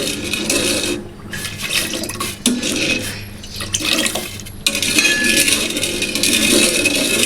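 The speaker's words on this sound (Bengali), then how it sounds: "এই দুধটা যখন জাল দিব তখন এভাবে অনবরত নাড়তে হবে যেন দুধটা ঘন হয়" Milk being stirred continuously in a pot as it heats, with sloshing liquid and a spoon scraping and knocking against the metal in uneven strokes, close and steady.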